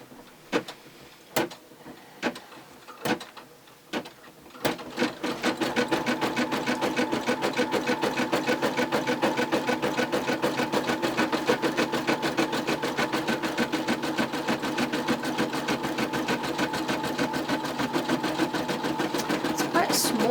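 A Brother M320e embroidery machine stitching a small zigzag stitch while embroidering a Snoopy design on a T-shirt: a few separate clicks and thumps first, then a steady, fast, loud mechanical whirr that runs continuously to the end, with talk at times.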